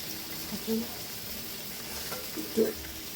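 Shrimp frying in a pan with pumpkin and egg, a soft, steady sizzle that stays faint, broken by a couple of brief stirring clinks and a low voice talking.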